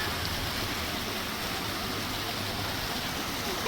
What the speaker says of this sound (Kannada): ಅವ್ಳಿಗೆ ನೀರು ಶಬ್ದ ಕೇಳಿಸ್ತೈತೆ ಅದಕ್ಕೆ